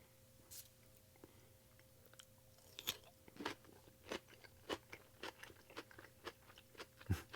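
Someone bites and chews a thick moonshine pickle close to the mic: a run of wet, crisp crunches at an uneven pace, quiet but clear, with no talk.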